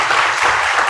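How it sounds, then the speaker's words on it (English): A ceremony audience gives a dense, even wash of clapping that holds for a full second without a break. "Give this man a round of applause."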